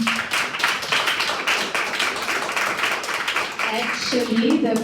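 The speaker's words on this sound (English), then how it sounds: "A big applause to all of them." Audience clapping at a women's startup competition semifinal in Vienna, a sustained round of applause with distinct individual claps, while someone speaks over it toward the end.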